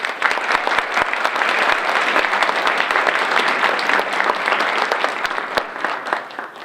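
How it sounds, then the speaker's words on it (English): At an evening academic recognition program, an audience gives a full, even round of applause in appreciation of campus friends. Dense clapping is punctuated by distinct sharp individual claps and holds steady throughout. "Please join me in a round of applause in appreciation of these campus friends."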